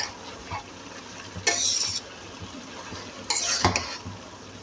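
Fish and bottle gourd curry is stirred in a pan, a soft simmering bubble broken by two bright scraping, clinking bursts of a spoon against the metal, close and with no talk.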